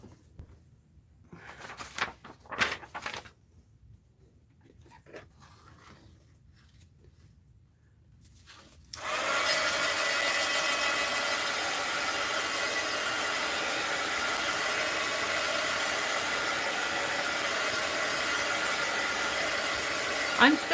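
A hair dryer drying paint on a mixed-media art journal tag, a steady loud whooshing blow that starts partway through and runs on evenly, after quiet rustling and handling sounds.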